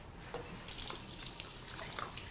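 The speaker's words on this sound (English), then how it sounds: "Wash my hands." Hands are rinsed under a running kitchen faucet, a soft steady splash of water with brief louder bursts as the hands move through the stream, quiet and close.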